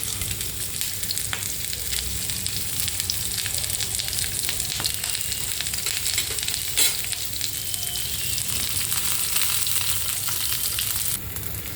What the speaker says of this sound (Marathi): कांदा चांगला फ्राय करून घ्यायचा आहे आपल्याला काळा होऊन द्यायचा नाही फक्त ब्राऊन होऊन द्यायचा